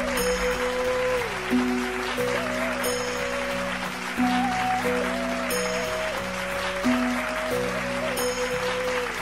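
Audience applause at a Marathi television stage show after a performance: a steady, full wash of clapping throughout, mixed with continuous music playing over it.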